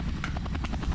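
A helicopter in the Rainbow Six Siege video game gives a steady rapid rotor thump with an engine drone, close and continuous throughout one brief moment.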